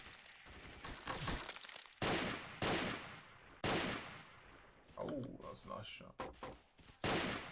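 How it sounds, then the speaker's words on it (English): Gunfire in S.T.A.L.K.E.R. Call of Pripyat with the Misery mod, several sharp single shots and short bursts with decaying echoes, loud and spaced irregularly, with a brief spoken word between them. "Some of these guns sound like guns on DayZ."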